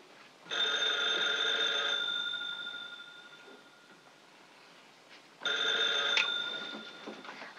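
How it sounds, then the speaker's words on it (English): An old 1940s telephone bell rings indoors in two bursts, a bright metallic jangle lasting about a second and a half each, separated by a pause of several seconds, with no talk over it. "Oh, your phone's ringing."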